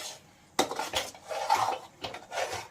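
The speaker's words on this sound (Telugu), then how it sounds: "ఇలాగా అడుగు పట్టకుండా కలుపుతూ అలాగా ఉండాలి" A spoon scrapes and clinks against a pan while a sweet dessert mixture is stirred over low flame, several irregular close metallic strokes and scrapes with no talking.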